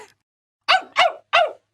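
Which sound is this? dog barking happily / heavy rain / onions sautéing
dog barking happily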